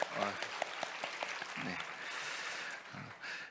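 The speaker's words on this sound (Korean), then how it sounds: "우리 환영하면서 박수하겠습니다" Church congregation applauding during a Sunday service, a steady broad patter of clapping that swells and holds through the moment, with brief spoken voices near the start and midway.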